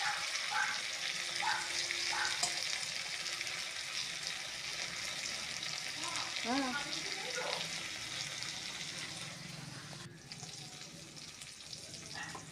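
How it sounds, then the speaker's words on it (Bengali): Potatoes and tomatoes with salt being stirred and fried in a pan, a steady moderate sizzle under occasional scraping strokes and some faint background voices. "নুন দিয়ে আলুর সঙ্গে টমেটো খানিকক্ষণ একটু নেড়ে চেড়ে কষিয়ে নিতে হবে"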